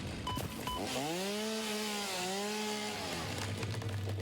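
Chainsaw in the Satisfactory video game cuts through trees, its engine revving up in a loud rising and falling whine with rough buzzing, close and alone.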